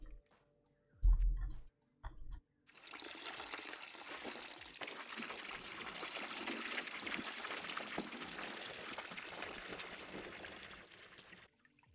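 Liquid pours steadily into a fermentation container in the Brewmaster beer brewing game, a continuous splashing rush of about nine seconds after a few short clicks and thumps, with no voices.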